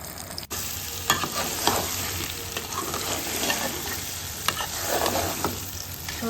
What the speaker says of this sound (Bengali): চিনিটা একটু মেল্ট হওয়ার পর তারপর জলপাইগুলো দিয়ে দিলাম।